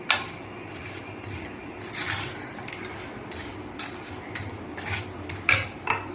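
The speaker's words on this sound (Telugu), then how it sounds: "నిమ్మరసం వేసుకుని ఒకసారి ఇలా కలుపు" Chicken pickle stirred with lemon juice in a bowl, a spoon scraping and clinking against the dish in irregular close strokes, with a few sharper clanks near the end and no talking.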